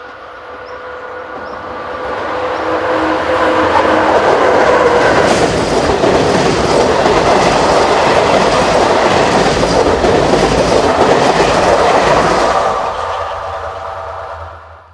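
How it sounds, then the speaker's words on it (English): A train passes Slivnik station in Slovakia on its way to Trebišov, rumbling louder as it nears and clattering over the rails for several seconds before fading away. The passage is heard alone, with no voices. "The same train is seen passing this station at Slivnik on its way to Trebišov."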